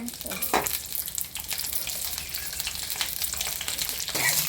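Chillies fry in a spoonful of oil, giving a continuous crackling sizzle with occasional stirring knocks that grows a little louder toward the end.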